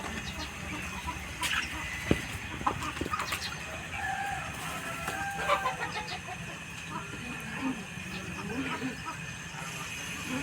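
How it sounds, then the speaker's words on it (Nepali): Chickens on a small integrated farm in Nawalparasi, Nepal, clucking faintly and intermittently in the background while people talk nearby. "ल यतातिर चाहिँ लोकल ब्रोइलर पनि छ।"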